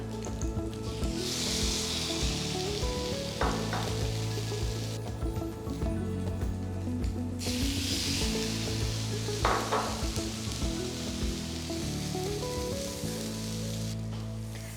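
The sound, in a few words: egg-soaked bread frying in pan for French toast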